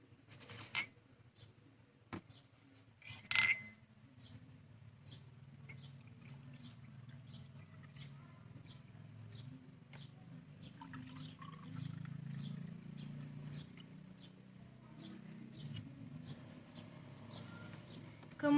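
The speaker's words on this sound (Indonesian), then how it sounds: "kita akan mengisi air bening ini ke dalam" Clear water poured into a glass for a primary school science experiment: a steady, moderately loud watery pour running for several seconds, preceded by a few sharp clinks and knocks of glassware.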